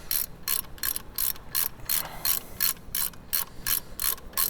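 Ratchet wrench tightening alternator bracket bolts on a Mercedes Sprinter van, a quick run of rhythmic clicking pawl strokes, close up and steady, with no talking.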